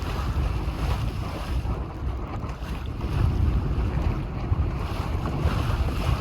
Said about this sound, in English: Here we are, just going downwind now.